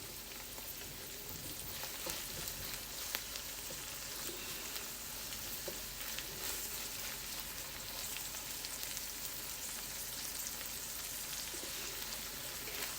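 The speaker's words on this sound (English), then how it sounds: "And I'm doing the fried rice." Fried rice sizzles steadily in a hot pan, a constant crackling hiss with no talk over it.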